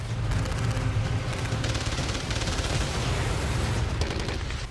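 Dense, continuous gunfire with rapid bursts and heavy low rumbling, like a battle raging nearby, loud and sustained throughout, from the war in Ukraine.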